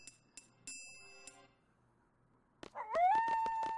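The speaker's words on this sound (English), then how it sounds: "dog!" A dog in the Final Fantasy VIII video game lets out a rising, howl-like whine with a few yips after a quiet stretch, following faint chiming tones earlier on.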